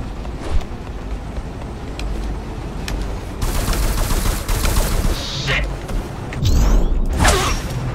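Rapid bursts of gunfire and fast action effects in the video game Ghostrunner, dense overlapping shots and whooshes at steady loudness, with a sharp heavy impact near the end.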